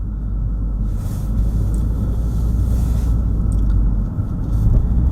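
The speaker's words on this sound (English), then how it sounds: "like I'm driving right now" Steady low road rumble of a car cruising along, loud and constant from inside the cabin, with no voices.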